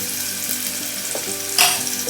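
Garlic and onion fry in a pan as part of a Konkan home-style recipe, giving a steady close sizzle with a brief louder crackle near the end. There is no talk.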